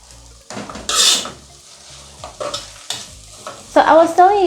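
A spoon scrapes and clinks against a pot while African salad cooks and sizzles, with irregular stirring strokes and metallic knocks, close and fairly loud, with no talking.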